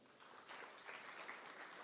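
Audience applause at an anti-fraud forum on AI-powered financial fraud, a soft, even wash of clapping that stays faint and distant throughout.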